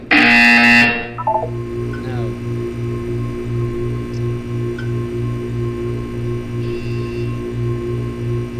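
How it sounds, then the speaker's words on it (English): A steady, repeating electronic buzzer pulses in a Portal 2 test chamber, with evenly spaced tones running continuously at moderate level after a brief loud burst at the start. "You will hear a buzzer."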